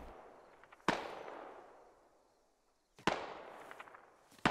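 Two loud, sharp shots at roughly two-second intervals in a SquadOps military shooter, each followed by a long fading echo, with a third shot just starting at the end and no talk.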